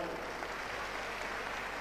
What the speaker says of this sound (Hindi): सुनील वोरा जी के लिए जोरदार तालियां।